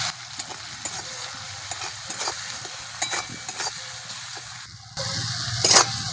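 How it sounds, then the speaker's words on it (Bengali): Ground chili and turmeric fry in hot oil with a steady soft sizzle, broken by scraping stirs of a spoon in the pan and a louder, brighter burst near the end. "মশলাগুলো একটু ভেজে নেব।"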